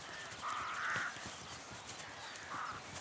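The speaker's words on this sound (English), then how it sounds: "Rooks descend upon the sea of blossoms." Rooks caw over a meadow of buttercups and marsh orchids, with a few harsh calls at mid distance against steady open-air background noise.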